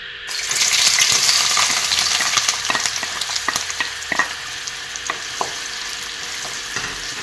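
Onions hit hot oil in a kadai and sizzle loudly, with a bright burst of frying that settles into a steady crackle while a spoon clicks and stirs through the pan.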